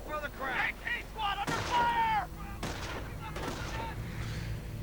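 Gunfire and explosions from a WWII real-time strategy game, with a half-track under fire from an anti-tank gun; bursts of shots and booms overlap a commentator's voice throughout.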